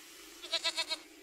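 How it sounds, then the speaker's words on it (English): A goat in the video game Wasteland 3 bleats in a quick run of four wavering pulses, fairly clear over a quiet game ambience. "let's get the goat"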